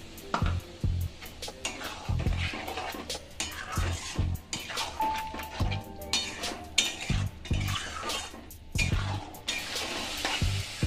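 Ghugni masala sautéed with a little water in a pan: steady frying sizzle under repeated scraping and clinking strokes of a spatula against the metal, close and continuous.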